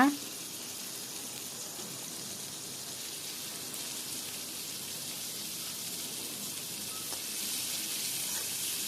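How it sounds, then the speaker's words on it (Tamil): Tomatoes and onions sautéing in a pan for a South Indian gourd and black chickpea kuzhambu, a soft, steady sizzle like light rain running throughout, faint and even, with a small clatter at the start. "இப்போ தக்காளி போட்டுக்கலாங்க"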